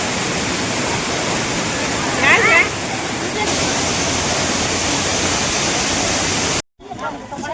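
Steady, loud roar of water rushing over Hogenakkal Falls fills the scene continuously, with brief voices audible beneath the broadband rush before it cuts out near the end.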